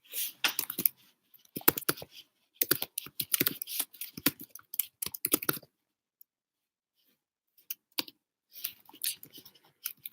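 Rapid bursts of keystrokes on a computer keyboard, clicking in quick clustered runs with brief pauses and a longer silent gap before typing resumes, close and dry.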